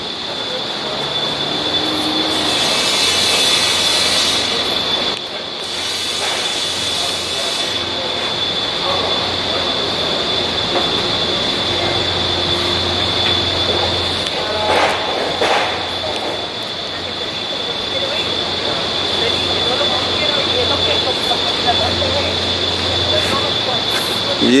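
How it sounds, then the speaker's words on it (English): A loud train rolls past close by on a nearby track in Harlem, New York City, with a steady metallic whine and rumble. Wheels squeal now and then, and voices talk over it. "just know it's by a train track"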